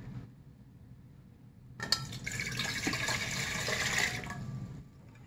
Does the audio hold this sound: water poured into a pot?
yes